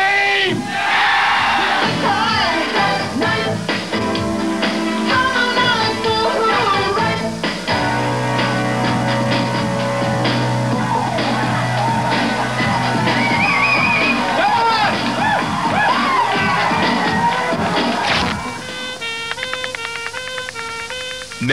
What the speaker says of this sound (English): Let me hear you scream!